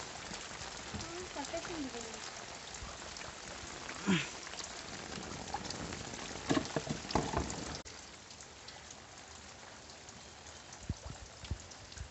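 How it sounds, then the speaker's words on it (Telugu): Heavy rain falling outside a house, a steady hiss of drops on surfaces with a few nearby knocks and thuds. "ఎంత వర్షం పడుతుందో బయట"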